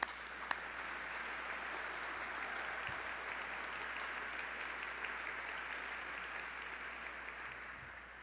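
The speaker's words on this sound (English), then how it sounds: "A round of applause for them," Sustained applause from guests at a Marine Corps Heritage Foundation evening awards ceremony, honoring a color guard and brass quintet; dense, steady clapping fills the room throughout and tapers slightly at the end, with no voices over it.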